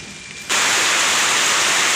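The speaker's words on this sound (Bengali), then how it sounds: "চলে আসলো জোরে বৃষ্টি" A heavy rainstorm is heard in a steady, loud roar that starts abruptly after a quiet half second and pours on without pause.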